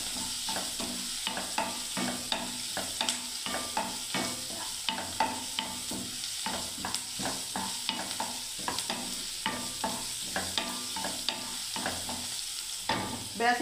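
Onions browning in a pan for semolina upma, with a steady sizzle of frying under repeated scraping and stirring strokes, close up and without speech.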